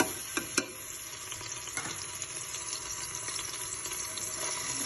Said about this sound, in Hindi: साथ ही मैंने ये जो अदरक और लहसुन का पेस्ट रेडी किया था ये मैंने इसमें डालना है।